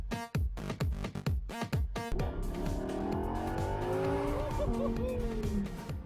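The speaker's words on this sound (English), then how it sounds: "I got to spend a week with Lamborghini driving their new Huracon Evo Spyder." A Lamborghini Huracan Evo Spyder supercar roars past, loud engine notes sweeping downward in repeated passes before a sustained, rising and shifting engine howl fills the rest, close and powerful.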